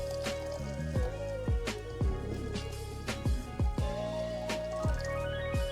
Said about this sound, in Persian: شما به اندازه 1 لیتر آب داخل این مرغ میریزید